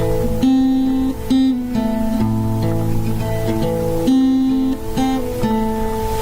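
Acoustic guitar playing the short intro to a song, a little picked phrase repeated twice with sustained notes and chords, close and steady with no talking.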